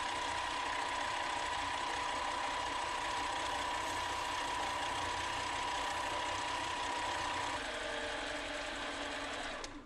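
Steady, continuous sanding of a shamrock ring with 400 grit sandpaper, a close, dense scratchy hiss with a thin tonal whine, running unbroken for about seven seconds before thinning out at the end.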